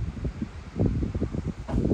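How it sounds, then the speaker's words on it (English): Wind blows at a campsite on Crown Land in Canada, buffeting the microphone in uneven low rumbling puffs and rustles, close and fairly quiet. "It's pretty windy right now."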